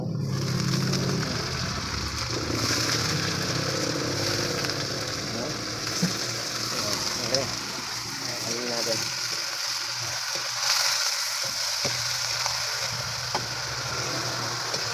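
Chicken pieces for adobo fry in a hot pan, a loud, steady sizzle and crackle that runs the full length while a person talks over it.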